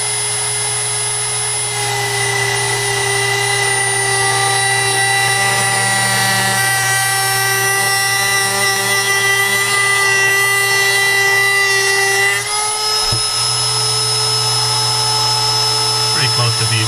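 A fast-spinning cutting wheel cuts through a plastic stencil for custom crankbaits and fishing lures, giving a loud, steady high-pitched whine with a lower motor hum that runs continuously, shifting pitch briefly near the end.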